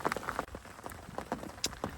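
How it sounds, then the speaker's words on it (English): Heavy rain drums steadily on a bivvy tent through the night, a dense patter of close drops with scattered sharper hits and no voices. "The rain has been relentless. It has been absolutely hammering down all night."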